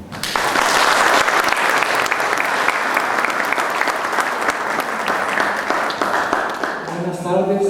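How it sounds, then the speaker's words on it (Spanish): An audience at a cultural colloquium in Jalostotitlán breaks into loud, sustained applause to welcome two speakers. The dense clapping fills the room for several seconds, then tapers off as a voice begins. "Lo recibimos con un aplauso."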